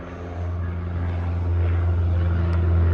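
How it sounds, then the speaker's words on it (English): A steady, droning engine roar of a passing airplane, loud and continuous, slowly building in volume with no voices. "Hey, plane, do you mind?"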